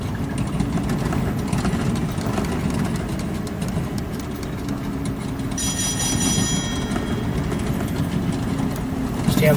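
Low rumbling engines run at half speed ahead aboard a vessel in Microsoft Flight Simulator 2020, a steady droning hum with a brief metallic squeal partway through and a voice talking over it.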